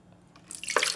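Water splashes into a food processor bowl fitted with a dough blade, a short bright pour that starts faintly and builds to a loud close splash at the end.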